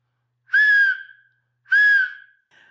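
A handmade brass pea whistle blown twice in two clear, shrill half-second blasts with a slight trill, then a short faint third toot, close and loud against silence.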